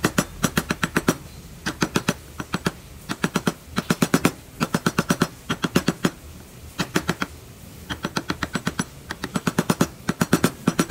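An ordinary gouge chisel struck with a mallet while carving a wood ornament, giving bursts of quick, sharp, evenly spaced taps in clusters with brief pauses between them.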